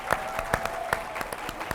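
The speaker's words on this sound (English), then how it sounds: "Can we give them a round of applause?" Sparse, quiet applause at a United Way of Delaware annual meeting, a handful of distinct claps in an uneven rhythm rather than a full crowd ovation.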